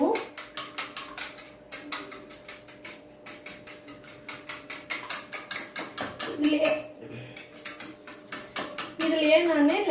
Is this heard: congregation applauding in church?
no